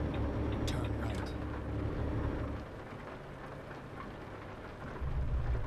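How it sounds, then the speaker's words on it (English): Steady rain patters under a low truck engine rumble while driving in Euro Truck Simulator 2, the hiss continuous throughout with the engine drone dipping midway and returning. "There could possibly be, but we've got rain."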